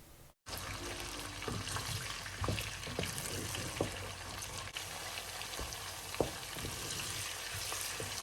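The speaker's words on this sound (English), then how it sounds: "add my chopped red onions. Okay, and begin to fry that for about 5 to 7 minutes" Chopped red onions frying in a pan for a smoked pork tomato stew, giving a steady close sizzle with occasional stirring clicks and scrapes, and no talking.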